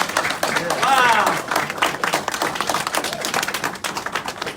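A live audience applauds at a comedy-style show, close and busy clapping with crowd noise and a voice talking over the sound.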